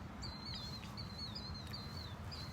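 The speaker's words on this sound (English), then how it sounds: "this set of geese, they had landed about 4 or 5 minutes ago" A small flock of geese that landed minutes earlier on a morning outing give repeated thin, honking calls in a steady back-and-forth series, faint and somewhat distant, with no talking.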